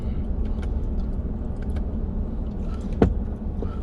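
Inside a truck towing a trailer on the road, a steady low rumble and road drone carries throughout, with one brief thump around the three-second mark.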